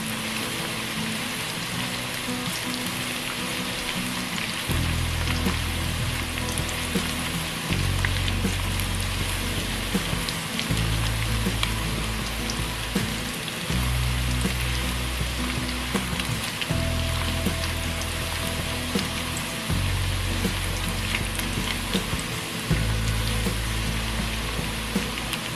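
Onions frying in oil in a pan while cooking a Bengali prawn curry, a steady dense sizzle and crackle running throughout, close and fairly loud, with no talking.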